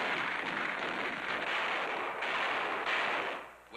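Battlefield gunfire on Iwo Jima in 1945 as Marines push up Mount Suribachi, a dense, continuous roar of shots and blasts heard at a distance through old, noisy newsreel sound.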